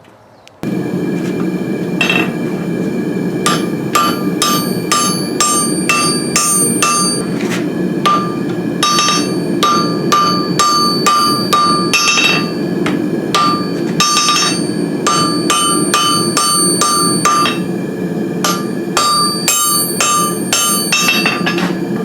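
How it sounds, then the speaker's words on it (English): A hammer strikes a heated Damascus steel billet on an anvil in a rapid, steady rhythm of loud, ringing metallic blows, close by and continuing with only brief pauses. "I think I'm going to take it up there and heat it up and pound it on its sides."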